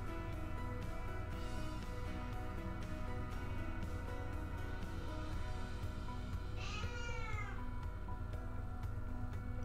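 A house cat meows clearly in a quiet indoor room where someone is sponging paint through a stencil, a short rising-and-falling cry near the end over steady low background hum.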